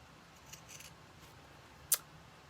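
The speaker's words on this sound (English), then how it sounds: "I'm going to cut out a little bit." Pinking shears snip through fabric in a quiet room, faint soft cuts followed by one sharp, distinct close snip near the end, with no talking.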